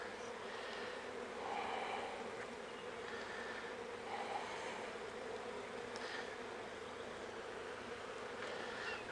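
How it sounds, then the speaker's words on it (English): Steady, dense buzzing of many honeybees close by, a continuous droning hum that swells slightly now and then, with no voices. "they're really gentle bees, very nice bees."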